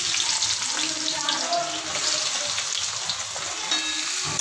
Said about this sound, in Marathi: आता ह्यात आपण कांदा परतायला घालूया।